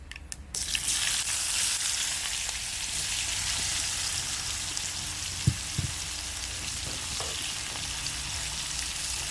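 Chopped onions sizzle steadily in melted butter for tempered rice, a continuous close frying hiss with a few soft clinks of a utensil.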